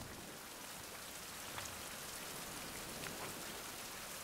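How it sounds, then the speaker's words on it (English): Steady rain falls in the survival video game Survival: Fountain of Youth, a continuous even hiss of droplets alone with no talk, holding at the same level throughout. "Still raining."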